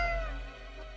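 A cat in the video game Death and Taxes gives a single drawn-out meow, clear and close, fading toward the end over a low hum.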